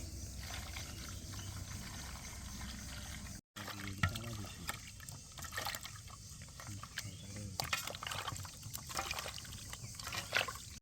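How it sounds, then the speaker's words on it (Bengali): Tomatoes washed by hand in water: soft, close splashing and trickling, sparse at first and then busier with irregular drips and sloshes, all fairly quiet. "এখন আমরা টমেটোগুলো ভালো করে ধুয়ে নিব।"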